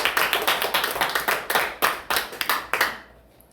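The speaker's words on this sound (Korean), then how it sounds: "하나님께 영광의 박수 올려드리시겠습니다" A church congregation at a Friday prayer service claps together in a rhythmic, loud unison beat that loosens and fades out near the end, with no voices over it.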